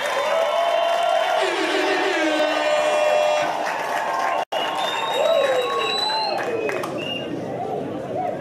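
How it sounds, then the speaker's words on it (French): A crowd at a presidential campaign rally in Ndjolé cheers and applauds the candidate, a loud, continuous roar mixed with shrill whistles or sung tones, broken by one short cut before it resumes. "je vous demande d'acclamer notre candidat"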